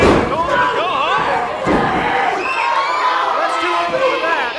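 Loud wrestling crowd at an IZW event, fans shouting, jeering and whooping in a dense continuous roar with thuds from the ring, swelling throughout.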